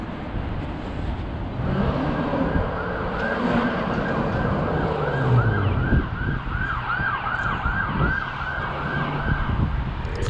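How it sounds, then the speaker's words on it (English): An emergency vehicle siren wails continuously through city traffic in Bristol, its rising and falling sweeps loud and fairly close over the rumble of passing cars. "Non-stop siren since we got here."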